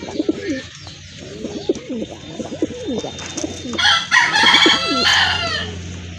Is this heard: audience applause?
no